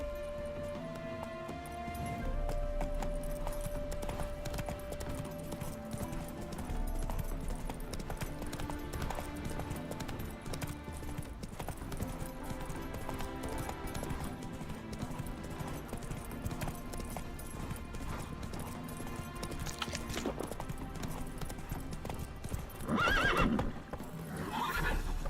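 The horse Roach in the video game The Witcher 3: Wild Hunt clip-clops along with steady hoof beats and whinnies over game music and ambience, rhythmic and continuous, with a louder burst near the end.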